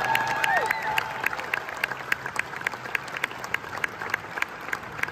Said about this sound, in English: Come on, guys, give them an applause.